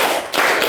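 Children clap their hands in a counting game led by a teacher, a quick burst of sharp claps close by in a classroom.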